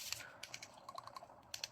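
Several light clicks of a SATA electric screwdriver's plastic button in quick succession, close and fairly quiet, with a short pause before a final pair of clicks.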